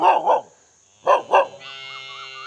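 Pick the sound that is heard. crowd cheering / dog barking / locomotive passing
dog barking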